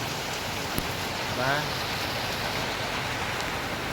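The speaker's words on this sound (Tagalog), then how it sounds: "buti na lang po kahit papano ay ulan lang siya at wala siyang hangin" Steady rain falls outdoors during plastering work, an even hiss of raindrops without wind that continues throughout, with a brief spoken word partway through.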